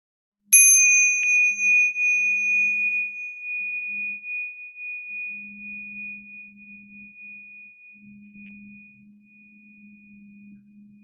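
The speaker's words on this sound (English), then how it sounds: "I'll ring the bell in a moment." A small meditation bell is struck once, giving a bright clear ring that sustains and slowly fades over many seconds, with a faint low hum beneath and no talk.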